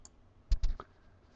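Several quick clicks from computer keyboard keys being pressed, close and crisp: a faint tap, then two firmer clicks in fast succession and a lighter one just after, in a quiet room.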